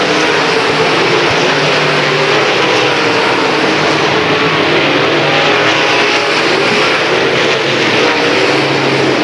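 Late model race cars roar around a short track during a 1993 PPMS Super Series heat, a loud continuous wash of engines with no break and no voices.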